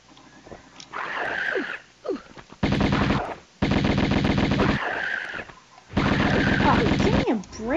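Tomb Raider 1 gunfire in the Atlantis level: loud, rapid bursts of repeated shots in several long volleys separated by brief pauses, with creature cries and whinny-like squeals between them.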